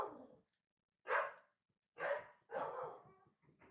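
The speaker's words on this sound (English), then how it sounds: "Our next door neighbor has a dog." Neighbor's dog barking in bursts nearby, four or five sharp, fairly loud barks separated by short silences, heard alone with no talk.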